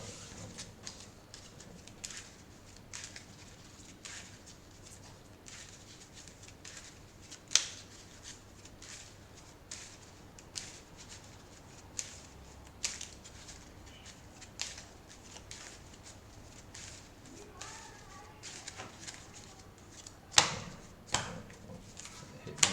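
A deck of game cards is shuffled by hand in a quiet room, giving soft riffling and sharp tapping clicks scattered throughout, with occasional brief speech.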